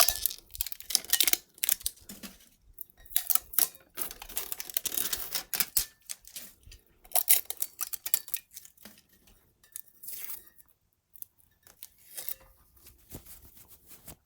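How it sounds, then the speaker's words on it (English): A box cutter slices and peels warm sublimation wrap off a 12 oz wine tumbler: clustered crackly tearing, snipping and plastic rustles, close and fairly quiet, stopping and starting, with no talk. "So I'm just take a box cutter and cut into that."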